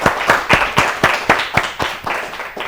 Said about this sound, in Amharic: በደንብ አጨብጭቡለት።